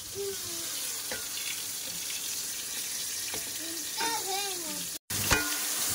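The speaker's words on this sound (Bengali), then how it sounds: "মশলাটা ভালো করে কষিয়ে নিই।" Spice masala with chili powder sizzles as it is sautéed in a pan in a home kitchen, a steady hiss with occasional stirring clicks and faint tonal voice-like sounds in the background, broken by a brief dropout near the end.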